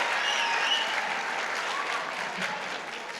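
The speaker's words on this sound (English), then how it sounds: "let's give a round of applause for the Whitfield 4th and 5th grade band" Audience applause at a school spring concert for the Whitfield 4th and 5th grade band, a steady, dense patter of many clapping hands filling the room throughout at an even level.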